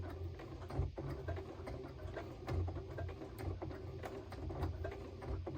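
A sewing machine stitches slowly back over the first seam while making a curtain rod pocket, giving a soft, quiet run of rhythmic mechanical ticks and clacks with low motor hum.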